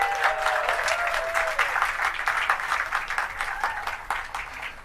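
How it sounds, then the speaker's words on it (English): Audience applause at a Hollywood Walk of Fame ceremony, a steady wash of many hands clapping outdoors, with a faint whistle-like tone drifting through early on, holding at a moderate level throughout. "so please applaud"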